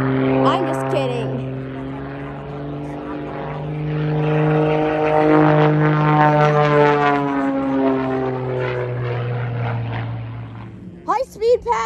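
A CF-18 Hornet fighter jet makes a high speed pass at an airshow in Gatineau-Ottawa, a loud droning engine roar swelling and holding steady while a commentator talks over it throughout.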